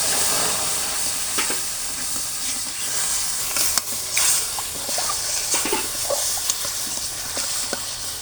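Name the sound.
milk added to fried semolina in hot pan, sizzling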